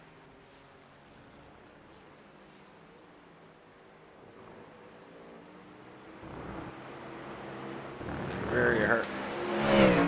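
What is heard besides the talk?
V8 race car engine heard from inside the car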